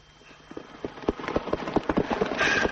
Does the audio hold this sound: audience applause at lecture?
no